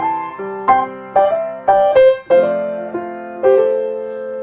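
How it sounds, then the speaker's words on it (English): Piano plays a melody with a slip note, a string of distinct struck notes with brief grace-note bends between them, clear and close with no talking. "But you add the slip note, and it sounds like this."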